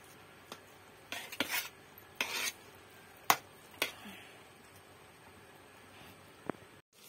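Khichuri cooks in a pot outdoors while a metal spoon stirs and knocks against the rim in a few sharp, scattered clinks and scrapes, quiet and close, with long pauses between them.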